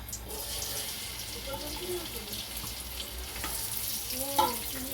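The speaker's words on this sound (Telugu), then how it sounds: "ఫ్రై చేసుకుందామండి బ్రౌన్ కలర్ వచ్చేదాకానే." Sliced onions frying in oil for chicken dum biryani give a soft, steady sizzle with light stirring and scraping, fairly faint, with a brief voice near the end.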